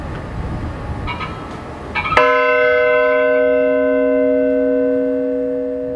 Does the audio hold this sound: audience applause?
no